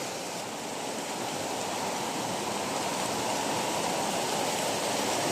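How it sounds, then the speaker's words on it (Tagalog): Strong rushing floodwater roars steadily and loudly, a dense continuous wash of broadband noise that fills the scene without pause and without voices. "napakalakas ng tubig mga kabits"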